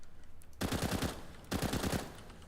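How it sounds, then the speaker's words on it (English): Automatic pistol fire in a video game, two quick bursts of rapid shots at an AK-like fire rate, loud and close with no talk. "6 bullets automatic fire rate with a fire rate of 10, so the same fire rate as an AK"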